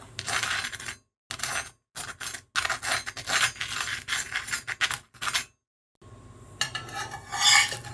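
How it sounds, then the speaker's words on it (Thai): A crispy Vietnamese bánh xèo pancake is flipped and worked in a pan, with close scraping and crackling bursts broken by brief silences. "กลับด้านพี่น้องแป้งกรอบคักกรอบแน่สิให้ฟังเสียงเด้อ"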